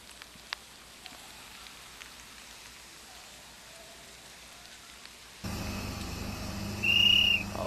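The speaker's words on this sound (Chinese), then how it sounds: "哨声响起" A referee's whistle starts a run at a towed wakeboard national team selection contest. It gives one short, sharp blast near the end, over steady wash-like background noise.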